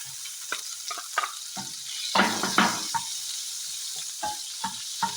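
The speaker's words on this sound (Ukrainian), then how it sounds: "Отправляю сливочне масло на сковородку." Butter and apple pieces fry in a frying pan for an apple pie filling, a soft sizzle broken by repeated scraping stirs and clinks of a utensil against the pan, no talk.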